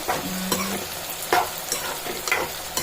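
Mango curry with chili powder frying in a pan while a spoon stirs it, soft sizzling under a few scraping and tapping strokes, close and fairly quiet with no talking.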